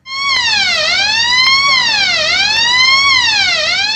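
An emergency alarm siren wails nonstop inside a locked Union Bank branch at Kollam Civil Station on a Sunday, loud and close, sweeping steadily up and down in long repeating cycles.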